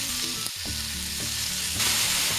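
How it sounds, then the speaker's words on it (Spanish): Chicken sizzles and crackles loudly in very hot oil in a pan over maximum heat, with a brief stirring clatter partway through and no talk. "Cuando ya está bien caliente, le añadimos el pollo"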